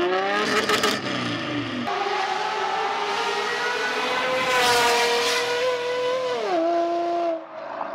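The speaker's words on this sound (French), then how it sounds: "C'est le moteur de la Pagani." A Mercedes M120 V12 in a Pagani, running with its air filters being changed, revs loudly and smoothly with rising and falling harmonic engine tones, a brief dip and climb, and a drop at the end.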